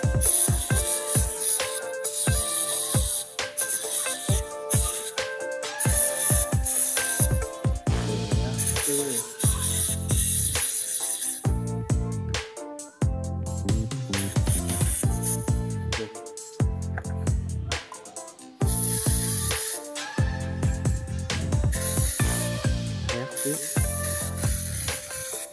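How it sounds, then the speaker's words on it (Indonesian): Cleaner is sprayed onto the carburetor of a Vespa PS 150, with bursts of hissing spray that repeat close by over steady background music. "Nah ini karbunya sekarang kita semprot-semprot cuy."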